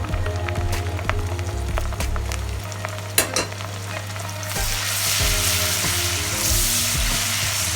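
Chopped Scotch bonnet peppers hit a pan of cooked onions with a loud, steady sizzle, with stirring scrapes and clicks throughout and a brief sharp clatter partway; the hiss grows brighter and fuller near the end.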